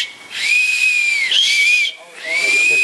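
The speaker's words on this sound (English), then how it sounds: "This week we will be discussing how to whistle with an acorn shell." A shrill, breathy whistle blown through cupped knuckles over an acorn shell sounds in three close, loud bursts, each a sustained high tone wrapped in airy hiss.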